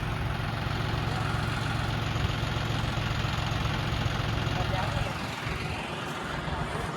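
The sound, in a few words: tractor engine running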